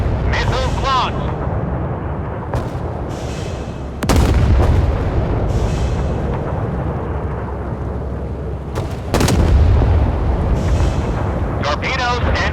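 Russian cruiser Pyotr Velikiy in the Force of Warships naval game fires missiles and guns, with loud deep booms near 4 and 9 seconds over a constant rumbling battle din, and a voice speaks over it.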